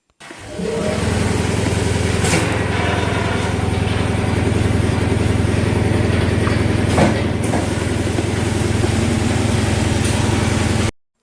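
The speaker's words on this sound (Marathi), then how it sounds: "ही आहे पिलिंगची मशीन यात आपला काजू सोलला जातो" A cashew peeling machine runs in a cashew factory, giving a loud, steady mechanical drone with a constant low hum and a couple of brief clattering bursts, no speech.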